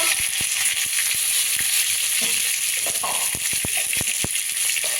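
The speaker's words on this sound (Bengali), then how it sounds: "আলু আর ওলকপিটা ভেজে নেবো।" Kohlrabi and potato pieces frying in a pan with turmeric, after a black cumin seed tempering, give a constant hissing sizzle punctuated by sharp clicks of a spoon against the pan.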